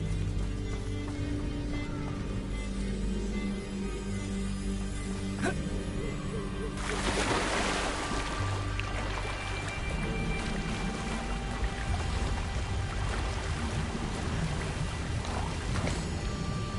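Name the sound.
waterfall in the video game Hogwarts Legacy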